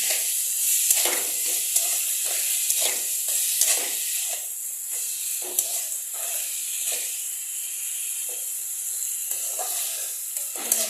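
Turmeric and cumin powder stir-fry in a pan with a steady hiss of sizzling, punctuated by repeated scraping strokes of a spatula at an even rhythm, close and clear with no talking.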